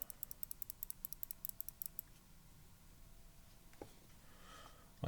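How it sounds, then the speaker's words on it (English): Typing on a Perry.Works IU V2 prototype keyboard: a quick, quiet run of light clicks for about two seconds, followed by near silence with a couple of isolated taps. "Mouse clicks, keyboard level again."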